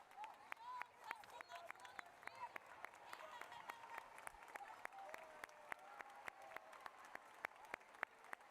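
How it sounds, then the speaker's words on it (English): Audience applause for parents and caregivers at a school Moving Up Day ceremony, a steady patter of many hands clapping, fairly quiet and distant, with voices murmuring underneath throughout. "we're going to give a round of applause to all the parents and caregivers that are seated all around us"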